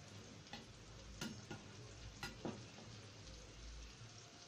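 Tomatoes fry in a pan with a soft, steady sizzle, faint and close, broken by a few light clicks and taps from stirring.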